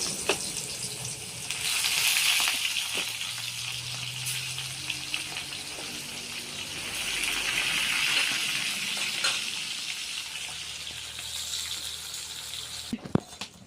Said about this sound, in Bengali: এটা গরম হয়ে গেছে, মাছগুলো বাজি নেব।